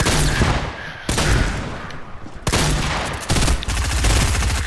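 Rapid bursts of gunfire in Fortnite, several loud dense volleys of shots in quick succession, each burst cutting in sharply with brief gaps between.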